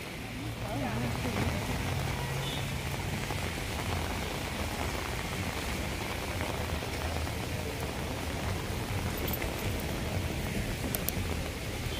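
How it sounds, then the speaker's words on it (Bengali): Evening rain falls over Kolkata as an even, unbroken hiss of drops on surfaces, steady and moderately quiet throughout with no pauses. "কলকাতার সন্ধ্যার আকাশে বৃষ্টি আর গাড়ির শব্দ"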